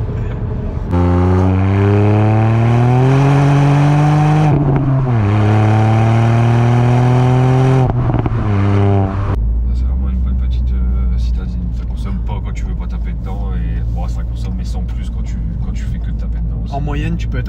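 A Ford Fiesta ST Mk8 engine revs hard and loud, climbing through the rev range twice with a brief dip between, then breaks into rougher, lower running as the wheels spin in second gear; voices talk briefly over it.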